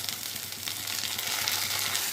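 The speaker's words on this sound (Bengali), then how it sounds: "পেঁয়াজটা ভাজা ভাজা হয়ে গেছে, আদা রসুনটা ঢেলে দেবো" Ginger-garlic paste hitting hot oil over browned onions, giving a steady, close sizzle and crackle that holds evenly through the short stretch with no talking.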